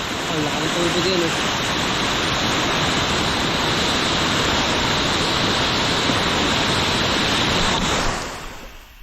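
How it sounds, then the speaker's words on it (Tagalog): Loud, steady roar of a big flooding river rushing in full spate, a dense continuous wash of water filling the whole clip before easing off at the very end; a brief voice is heard near the start. "Ang laki ng tubig yan eh."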